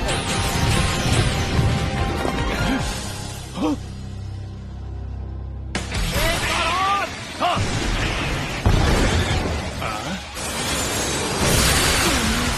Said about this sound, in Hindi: चलो हर तरफ से फायर करो।